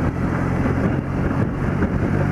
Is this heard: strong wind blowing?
yes